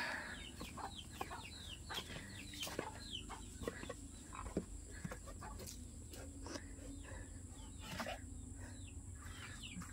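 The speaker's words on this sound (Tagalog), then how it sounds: "Mga manok." Chickens cluck repeatedly in short bursts over a low steady background hum, some nearby and some farther off, on a rural pig-raising farm in the Philippines.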